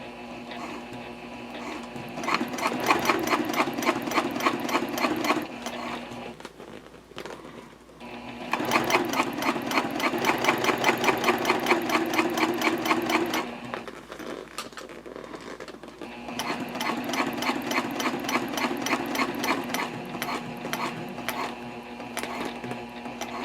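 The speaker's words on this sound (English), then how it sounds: "I'm ready to start sewing." A sewing machine topstitches a jelly vinyl pouch in three long, steady bursts of rapid mechanical stitching, with short quiet pauses between runs and no talking.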